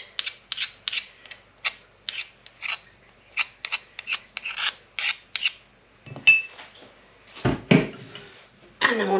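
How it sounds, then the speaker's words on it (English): Softened butter and herb mix scraped out of a pestle and mortar for chicken Kiev: a close, rhythmic series of short, harsh abrasive rasps, followed by a few heavier scrapes and knocks. "Sorry for the scraping, but it is abrasive."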